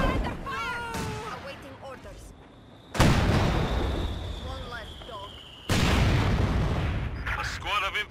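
Artillery firing in the video game Company of Heroes 2, set around Orsha, Belarus: two heavy, sudden blasts with long rumbling tails, over a battle ambience with faint chatter and whistling tones.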